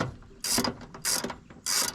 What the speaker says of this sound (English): with a 3/8 ratchet and extension and a 10mm socket, we can loosen this bolt that holds this clamp onto this here housing